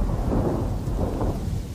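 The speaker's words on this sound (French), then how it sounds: "Dans le ciel, un orage se prépare." Deep thunder rumbles close by over a steady wash of heavy rain, with no voices.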